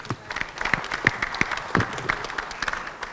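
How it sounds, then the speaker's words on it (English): Applause from a panel audience on health access partnerships, a small group clapping unevenly with some louder claps near the microphone, lasting the whole three seconds without talk. "She needs an applause for this"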